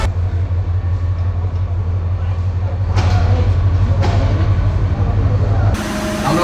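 The Parjatak Express air-conditioned train running from Dhaka toward Cox's Bazar, a loud, steady low rumble of the carriages with periodic louder rattling surges and a brief swell near the end, heard from close by.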